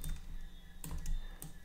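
Quick bursts of typing on a computer keyboard, a few short clusters of key clicks over a low steady hum, close and quiet.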